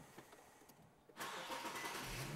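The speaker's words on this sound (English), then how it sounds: "Now go ahead and start the car." A car engine cranks and fires abruptly after a quiet moment, then settles into a steady, loud running roar close by.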